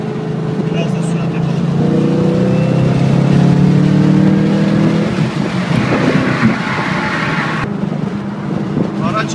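A modified Ford Mustang Shelby GT500 with a factory-rated 662 horsepower engine revs and accelerates loudly and close up, its rising harmonic roar sustained before easing off, with a voice talking over it.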